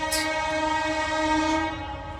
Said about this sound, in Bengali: ট্রেন যাচ্ছে পরপর